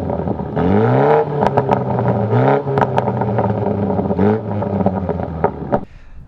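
A Mini John Cooper Works Countryman revs through its twin exhaust pipes, loud and close, with a steady engine drone rising and falling over several short blips before cutting off near the end.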